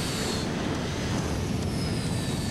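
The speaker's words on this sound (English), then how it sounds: "Both engines are at full throttle now." The twin jet engines of a rocket fire truck roar at full throttle, a loud, steady, dense broadband rumble with hissing highs that holds constant throughout.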